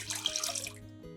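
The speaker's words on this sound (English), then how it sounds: "I will dilute the solution with about 1 liter of clean water and stir well" About a liter of clean water is poured and stirred into a garlic and vitamin B1 solution, a short, quiet splashing trickle that stops abruptly, with no talking.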